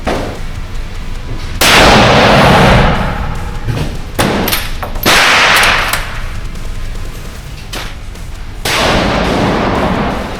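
Tikka T3x bolt-action rifle fired repeatedly, loud sharp reports at uneven intervals, each blast followed by a long rolling decay, no talk.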